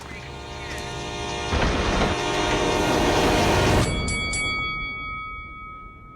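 A train rumbles past with rising clatter, then a long, steady horn blast rings out and fades as the rumble dies away.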